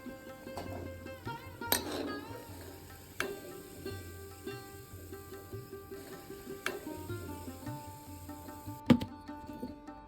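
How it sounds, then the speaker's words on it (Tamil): Banana flower vada frying in hot oil: a steady, faint, close sizzle with small crackles and occasional clinks of a utensil turning the fritters, no speech. "திருப்பியும் போட்டு கொஞ்சம் நேரம் எண்ணெயில் பொரிக்கணும்"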